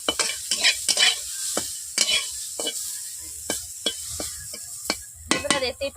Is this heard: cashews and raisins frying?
yes